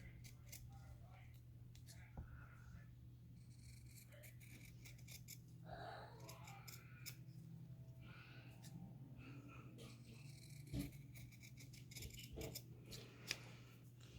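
Scissors snip paper to trim a page for a nature-themed craft journal, giving soft scattered cuts over a steady low hum in a quiet room, with a few louder clicks near the end.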